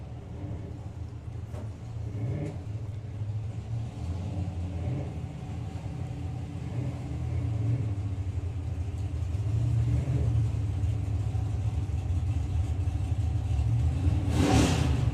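Turbo Pontiac drag car making its run at a drag strip, a steady low engine rumble building in loudness over the pass with a sharper burst near the end.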